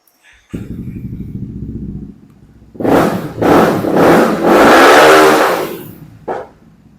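A 2023 Honda Forza 350 scooter with a remapped ECU idles with a steady putter, then revs hard in several rising bursts, ending in one long loud blip and a final short rev, close to the microphone.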